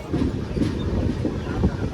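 The 13053 Kulik Express runs along the Howrah to Radhikapur line with a steady low rumble and soft rhythmic wheel clatter, heard from inside the moving train under light wind noise.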